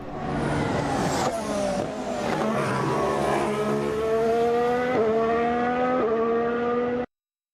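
Formula 1 cars at a Melbourne practice session, with engines screaming and rising in pitch through gear changes as cars accelerate past, loud and continuous with no talk.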